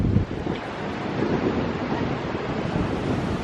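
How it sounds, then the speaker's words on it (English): Ocean waves roll in on Iceland's Black Beach as a steady, loud roar of surf, mixed with wind buffeting the microphone for the whole stretch, with no voices. "The waves are insane."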